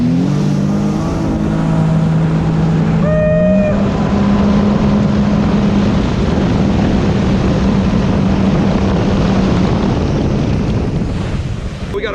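Sea-Doo RXP-X 325 jet ski engine roars steadily on open water, loud and close with heavy wind buffeting and spray, a brief pitch shift early on as the throttle changes.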